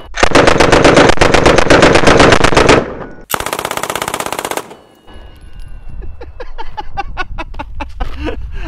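Sig M17 pistol firing full auto, loud rapid bursts of gunshots in two long strings, followed by quieter scattered clinks and rattles as the firing stops.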